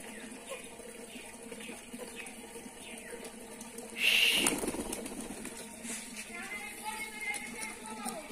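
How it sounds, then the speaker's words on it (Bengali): Pigeons feeding on a rooftop, with a sudden burst of wing flapping midway over a soft background of birds and a faint voice. "অনেকই অনেকই কবুতর খাচ্ছে।"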